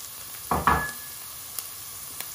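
Onions and carrots hit a hot pan with two quick sizzling bursts, then a soft, steady fry crackles faintly on its own.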